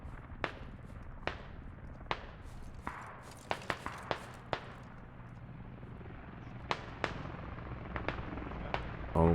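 Gunfire in the military shooter Squad, spaced sharp single rifle shots cracking out in an irregular rhythm over a low background rumble, some close and loud, others fainter.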